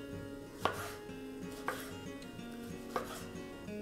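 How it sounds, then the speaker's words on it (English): A knife slices vegetables for a Polish-style Hungarian goulash, with three distinct cuts thudding onto a board at uneven intervals over a quiet kitchen background. "So I'm going to slice them first."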